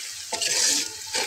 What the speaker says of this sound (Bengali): পেঁয়াজটা ভাজা হতে হতে